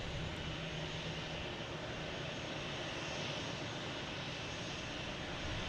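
Alaska Airlines jet taxiing to park at Boston Logan, arrived from Portland: a steady, moderately loud engine rumble and whine that holds evenly throughout, with no talk.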